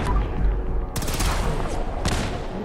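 Gunners attacking a settlement in Fallout 4 with Sim Settlements 2, heard as two loud bursts of gunfire, each with a rapid crackling tail, over a steady low rumble of game ambience.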